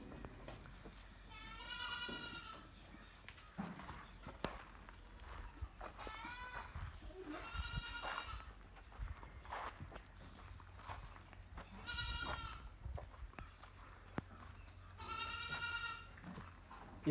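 Sirohi goats bleat in four separate bursts spaced a few seconds apart on a goat farm in Tamil Nadu, with low rustling and farmyard background noise in between.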